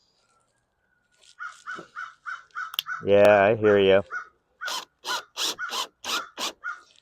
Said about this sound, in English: Pardon the crow in the background.